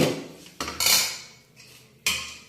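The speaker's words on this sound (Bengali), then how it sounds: "পিঠাগুলো দিয়ে দিয়েছি এবার ভালো করে নেড়ে দিচ্ছি" Metal utensil scraping and clattering against a pan while pitha rice cakes are stirred for dudh chitoi pitha, with sharp clinks at the start and a few bright scrapes, close and alone.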